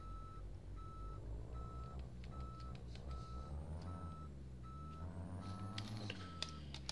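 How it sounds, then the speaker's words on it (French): A heavy truck in Euro Truck Simulator 2, hauling an oversized convoy load, sounds its reversing alarm: steady, evenly spaced high beeps repeating over a low, continuous diesel rumble, with a few sharper mechanical clicks near the end. "Puis le petit bruit de recul"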